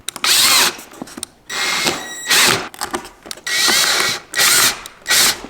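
A power drill drives screws into a Tesla Model Y Juniper performance body kit, with four close, loud whirring bursts separated by brief pauses.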